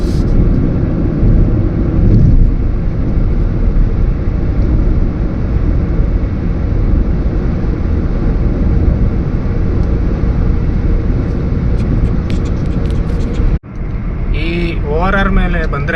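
Dense road traffic rumbling steadily in a jam on Bengaluru's Outer Ring Road, continuous engine drone close by, with a brief dropout near the end followed by a short rising tone and faint talk.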